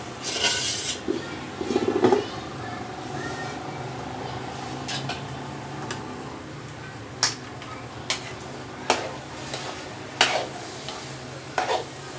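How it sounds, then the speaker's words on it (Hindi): Black chickpeas roast in a pan with a steady low sizzle while a spoon stirs and scrapes, giving occasional sharp clicks against the metal that come more often in the second half. Nearby, with no talk. "चने डाल कर तकरीबन 15-20 मिनट इसकी अच्छे से भुनाई करेंगे।"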